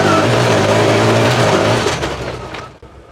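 A CF Moto UForce 1000 side-by-side in two-wheel drive revs hard while sliding around a dry field, its engine a loud, sustained roar that holds steady and then drops away as the throttle eases.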